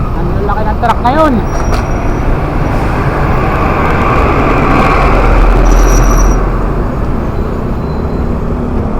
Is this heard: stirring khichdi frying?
no